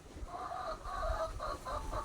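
Chickens on a small poultry farm cluck in a steady run of short, repeated calls, fairly close and clear, with no talking over them.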